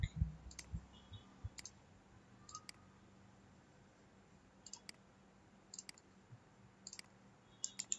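Sharp, light computer mouse clicks spread across a quiet room, several arriving in quick pairs like double clicks, close and faint with no talking.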